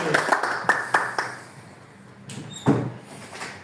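Guests at a birthday celebration clap in several short bursts, loud and close, then fade before a final sharp clap and some background chatter.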